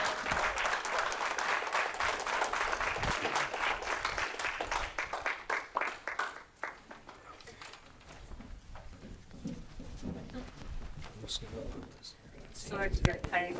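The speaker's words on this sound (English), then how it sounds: "let's give her a round of applause." Audience applause at a political platform event in Portland, a loud burst of crowd clapping that gradually thins and fades over several seconds, with a few scattered claps and voices toward the end.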